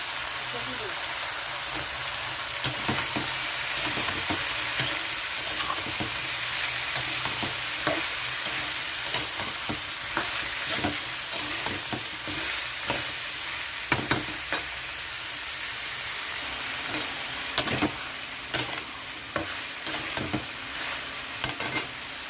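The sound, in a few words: ash gourd and potatoes frying in a pan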